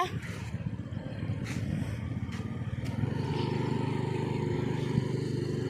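A small scooty-type scooter engine hums steadily and revs slightly during a riding lesson, a low continuous drone close by with faint voices in the background.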